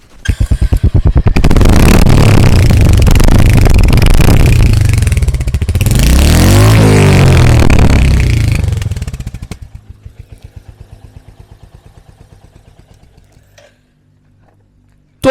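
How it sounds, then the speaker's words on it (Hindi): Royal Enfield Hunter 350 motorcycle exhaust, loud and close, pulsing at a quick idle, then revved up and held high before easing back down to a quieter idle that fades out. "तो एक बार सुनते हैं हंटर 350 का एग्जॉस्ट नोट।"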